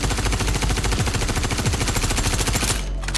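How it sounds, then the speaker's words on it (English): Rapid sustained automatic fire from a P4 assault rifle in the video game Star Citizen, a loud continuous burst of shots lasting nearly three seconds before cutting off abruptly. "starting with the P4 Assault Rifle. As you can see, the gun goes up and to the right"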